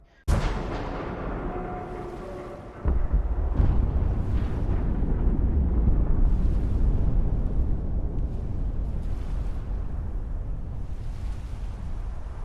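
Liberty Prime, the giant robot in the Fallout 4 video game, exploding: a sudden loud blast followed by a long, heavy rumbling roar that sustains and slowly fades, with crackling debris throughout.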